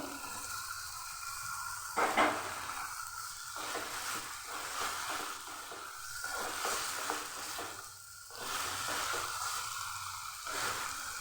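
Fried okra going into spiced masala in hot oil, a steady close sizzle and hiss that flares briefly and keeps going.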